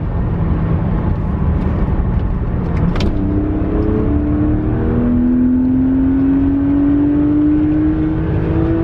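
BMW 130i straight-six engine heard from inside the car, a steady low drone that after a sharp click rises smoothly in pitch as the car accelerates through a gear, loud and close.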